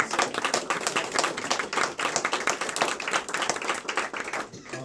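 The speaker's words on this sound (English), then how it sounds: "Let's clap for ISSA." An audience at the MD STEM Festival claps for ISSA, a lively, dense patter of many hands clapping at once, steady for several seconds before thinning out at the end.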